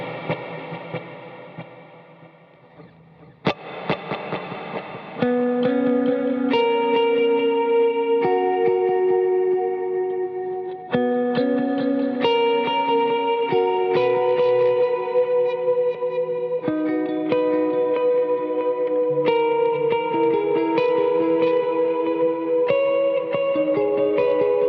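Electric guitar played through a pedal board with a delay effect, a melodic hook of picked notes with repeating echoes trailing behind each one, steady and fairly loud, with no talking.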